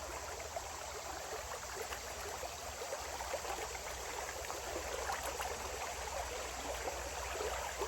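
A river called Topolka flows steadily with a continuous broadband rush and trickle, moderately loud and unbroken throughout, with no voices.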